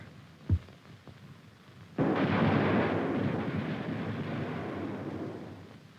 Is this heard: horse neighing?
no